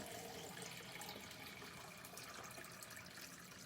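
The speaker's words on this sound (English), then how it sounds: "and you add 1 litre of water." Water pours steadily into a bucket or bowl holding a compressed cocoa coir block, a continuous close splashing and trickling fill with no talk over it.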